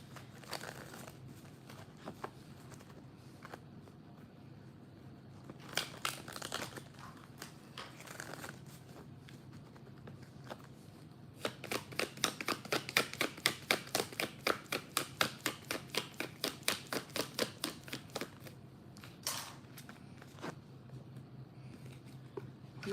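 Tarot cards being riffled and shuffled by hand during a live card reading, starting with a few scattered soft taps and rustles, then a fast, crisp run of card flicks in the middle before trailing off, close and fairly quiet.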